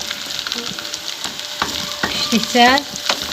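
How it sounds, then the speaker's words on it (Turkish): Mushrooms and onions fry in a pan, a steady sizzle running throughout with clinks and scrapes as they are stirred, the frying close and fairly loud. "Markozla soğan bir yerde kavrulmalıdır."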